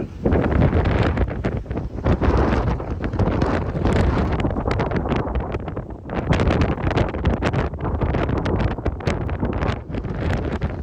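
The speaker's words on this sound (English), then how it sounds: "Wow, it's super windy up here." Strong wind gusts buffet a microphone high up on a swaying structure in South Dakota, a loud, continuous roaring rumble with surging peaks and a brief lull midway.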